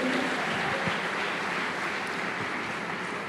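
A church congregation applauds in a steady, dense wash of clapping that fills the room evenly from start to finish.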